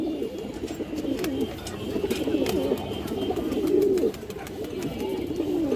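A female ghee-coloured chulli pigeon coos in low, throaty repeated phrases close by, steady across the stretch, with faint background noise and occasional clicks.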